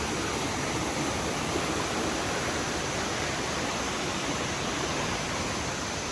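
A waterfall pouring out of a cave at Huai Luang in Thailand gives a dense, unbroken rushing roar of falling water, steady and close, with no voices over it.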